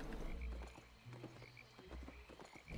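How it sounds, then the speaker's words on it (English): Frogs croak in the Albion Online game world, repeated low, throaty calls with a few faint clicking steps mixed in, fairly close and steady with no talking over them. "Some frogs."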